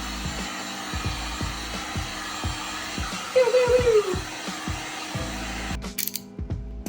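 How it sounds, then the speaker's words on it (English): Hot air blown from a heat gun onto a rubber boot sole to soften the glue, a steady broadband hiss holding for several seconds and then cutting off abruptly. "we're going to apply a bit more heat to loosen the glue"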